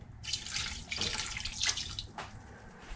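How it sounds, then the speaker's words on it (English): Beef broth poured from a cup into a pot of two-meat chili, a steady splashing liquid pour lasting a few seconds, close and moderately loud with no talking. "I'm going to add another cup of our beef broth"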